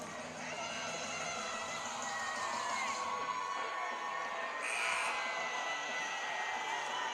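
A home crowd in the stands at a women's college volleyball championship, Bridgewater College against Washington and Lee, keeps up a steady roar of cheering and shouting, loud and sustained throughout, with a surge of whoops partway through.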